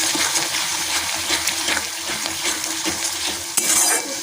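Poppy seed paste fries in a pan while being stirred continuously, a loud, close, dense sizzle with scraping strokes of a utensil throughout and a sharper clink near the end.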